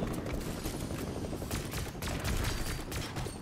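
Rapid gunfire in Fortnite, a dense burst of overlapping shots fired in quick succession, loud and close with no speech.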